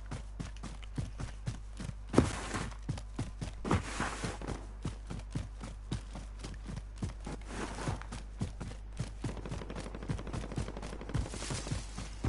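Rapid bursts of video game gunfire crackle in quick, irregular volleys, with heavier clusters of shots standing out against a steady low background hum; no one speaks.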